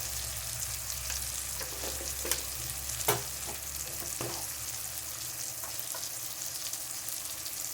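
Turmeric and chili powder sizzle in hot oil in a pan as they are stirred, a steady close frying hiss broken by a few sharp clinks and scrapes of a utensil.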